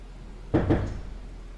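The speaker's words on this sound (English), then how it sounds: "I'm just going to close the door." A door being closed during a real estate photo shoot in a living room, a single short thud with a quick double knock-like impact, fairly near and then fading into quiet room tone.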